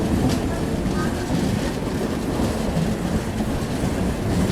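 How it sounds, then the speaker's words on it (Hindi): A local train rumbles steadily past near the Chennai–Bangalore line, a continuous loud low roar with faint clatter throughout. "देखिए ये आ गई लोकल ट्रेन।"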